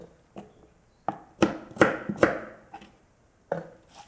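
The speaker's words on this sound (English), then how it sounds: "Rough cut on the ginger." Knife roughly chopping fresh ginger on a cutting board, a series of sharp irregular thuds, with several quick cuts bunched in the middle and a couple of isolated strokes at the start and end, close and clear.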